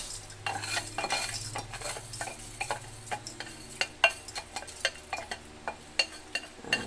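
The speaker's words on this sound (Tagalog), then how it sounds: "Lalagay na rin natin yung ating bigas na malagkit." Glutinous rice tipped into a pot of ginataang mais, a creamy coconut milk and corn dish, followed by a run of distinct spoon scrapes and clinks against the pot, fairly quiet and steady over a low background hum.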